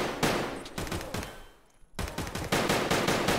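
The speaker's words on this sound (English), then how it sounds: "I'm getting shot at." Rapid bursts of gunfire in the Escape from Tarkov shooter game, loud dense volleys filling most of the stretch, dropping out briefly near the middle before the shooting resumes just as heavily.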